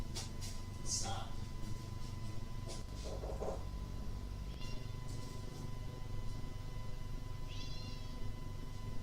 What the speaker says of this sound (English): the cat's trying to fucking get in there to use the bathroom